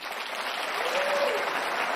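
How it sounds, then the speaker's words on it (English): A thin, scattered patter of clapping from a small crowd at a conservative political conference, brief and fairly even, with no voices on top. "that's not that many people clapping"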